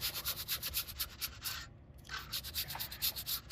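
Steel trowel forcing a bead of unfinished concrete under landscape edging, scraping and rubbing in quick repeated strokes up close, with a brief pause midway.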